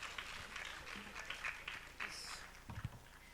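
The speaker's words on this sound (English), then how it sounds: "so let's clap for them" Audience clapping for graduates at a leadership forum, a faint and distant patter of scattered applause with uneven bursts and a few louder thumps toward the end.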